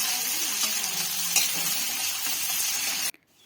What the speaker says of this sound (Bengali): বড় সাইজের একটা পেঁয়াজ কুচি দিয়ে সবগুলো একটু নাড়াচাড়া করে নেব।